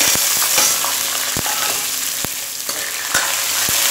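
Onions frying in a pan while making poha, a bright, steady close sizzle broken by sharp clicks and taps of a spoon stirring, with no talking.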